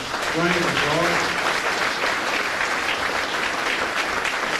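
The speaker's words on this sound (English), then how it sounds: "I think they deserve a very massive round of applause" A crowd at a racing legends evening hosted by Wilsons of Rathkenny Vauxhall breaks into a loud, sustained round of applause, with a voice briefly heard over the clapping near the start.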